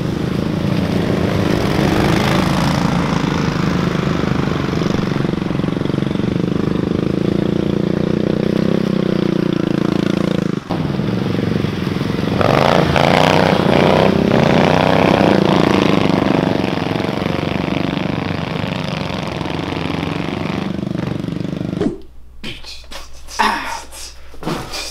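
A DTV Shredder tracked vehicle's engine churns steadily while it rides through mud, a continuous loud drone for most of the stretch before it cuts to quieter sounds near the end.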